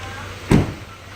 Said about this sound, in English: let me close all these doors